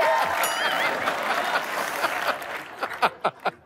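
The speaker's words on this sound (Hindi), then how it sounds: "तो जोरदार तालियों के साथ स्वागत कीजिए।" A studio audience on the Hindi comedy show Comedy Nights With Kapil applauds to welcome a guest. The dense, loud clapping thins out near the end into a few distinct separate claps.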